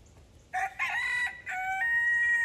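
A rooster crows loudly and close by, with chickens around a farm coop. A long, sustained crow rises about half a second in, holds through several strained bursts and carries to the end over a low outdoor hush, with no talking.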